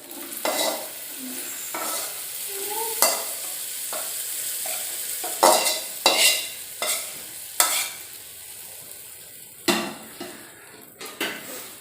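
Cashew nuts fry in a pan while a metal spoon stirs them, giving repeated sharp clanks and scrapes against the pan over a steady low sizzle, close and irregularly spaced.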